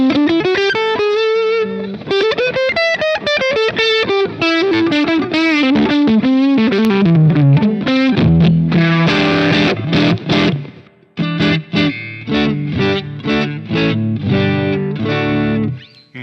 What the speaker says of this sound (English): Here's the distortion.